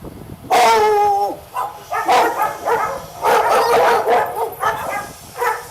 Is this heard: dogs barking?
yes